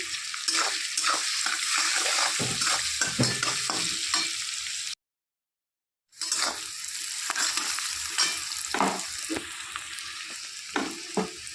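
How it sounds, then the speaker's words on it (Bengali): Salted onions fry in a pan, crackling steadily with repeated stirring scrapes; the sizzle cuts out for about a second midway, then resumes. "পেঁয়াজটা একটু ভাজা ভাজা হয়ে গেছে"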